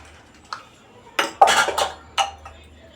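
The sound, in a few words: mixing cardamom and jaggery in a bowl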